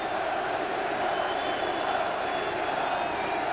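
Dense football stadium crowd roaring steadily at a 1993 NFC Wild Card game between Minnesota and the New York Giants, a broad continuous wash of massed voices with no clear rhythmic chant standing out.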